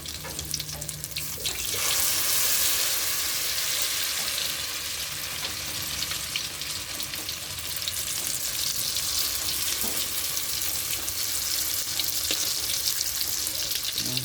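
A banana blossom omelette, tortang puso ng saging, fries in a pan with a continuous, bright hiss that swells early on and stays steady and close throughout.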